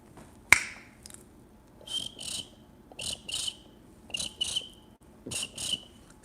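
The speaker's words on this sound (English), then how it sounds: "says the crickets" Crickets chirp as a sound effect in short paired bursts, repeating at a loose rhythm, close and crisp, following a sharp snap-like click at the start.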